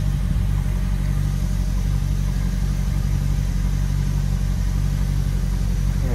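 Mercury Mag 350 inboard boat engine on a Donzi 28ZXO running steadily, a loud, continuous low rumble with no change in pace and no voices.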